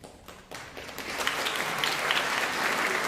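Applause at a high school senior awards ceremony, starting after a quiet pause and quickly building into dense, sustained clapping from a large audience.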